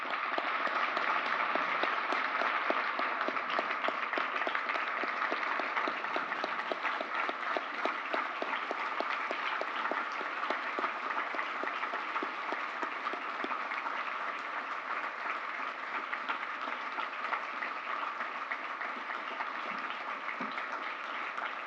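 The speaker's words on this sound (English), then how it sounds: "And we want to give James a big round of applause." An audience at an honoree celebration show applauding, dense steady clapping that stays loud and even throughout with no pauses.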